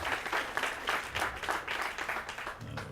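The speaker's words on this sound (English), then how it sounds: "Give him another big round of applause" An audience at a Los Angeles affordable housing dedication applauds a city council president, sustained dense clapping that fades slightly toward the end, with no speech over it.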